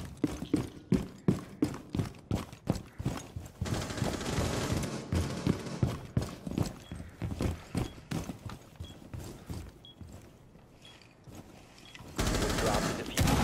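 Pistol gunfire in the tactical shooter Rainbow Six Siege, rapid sharp shots in quick succession with sustained firing in the middle, a quieter lull, then a loud burst at the end, close and punchy with faint voices.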